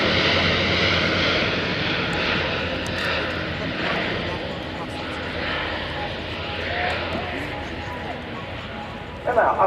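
A Spartan military transport aircraft flies past at an airshow, its engine drone steady and fairly loud, while an announcer speaks over it.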